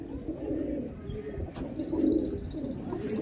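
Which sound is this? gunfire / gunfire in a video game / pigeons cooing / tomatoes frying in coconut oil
pigeons cooing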